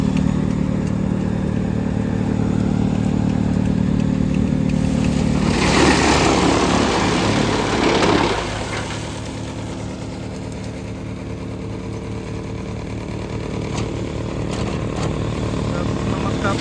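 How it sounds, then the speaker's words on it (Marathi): A chaff cutter machine chops maize fodder for silage, a loud steady engine drone with a surge of rough crunching and clatter in the middle before settling back to a lower running hum. "आता आपलं कुट्टी करणं स्टार्ट झालेलं आहे बघू शकता"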